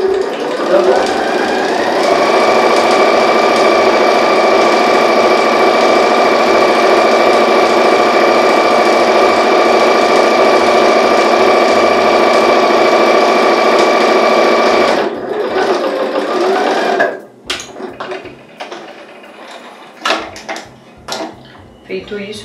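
A sewing machine runs steadily for about fifteen seconds, stitching all the way around a fabric organizer basket, then stops, leaving a few faint handling clicks and rustles.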